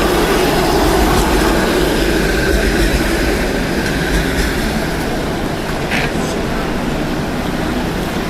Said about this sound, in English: Damn, I should hop on the streetcar.